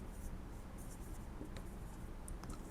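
Chalk or marker scratches across a classroom board in short, quiet strokes with brief pauses, faint and close, with low room noise beneath.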